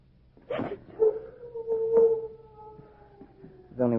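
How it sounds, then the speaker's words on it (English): A dog howls and whimpers in a long drawn-out wail with a short yelp before it and another cry at the end, moderately loud against a quiet, muffled background. "It was only one of the dogs."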